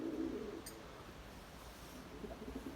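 Soft cooing of pigeons at a distance, low murmuring calls over a quiet outdoor background.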